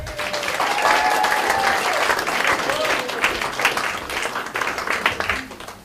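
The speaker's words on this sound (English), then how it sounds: "let's all give Linda a big round of applause" Loud, sustained applause from an audience celebrating Linda's birthday, a full steady roar of clapping throughout with a few faint voices mixed in.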